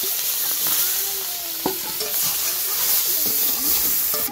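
Small mourala fish sizzle steadily in hot oil in a kadai, with a spatula scraping and stirring through the pan in scattered clicks and scrapes; close and continuous, no talk.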